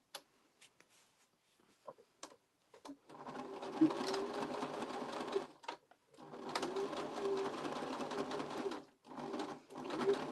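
Sewing machine stitching the side seams of a scrap-fabric gift bag: a few short bursts, then two long steady runs of fast rhythmic stitching, close and moderately loud, with no talking.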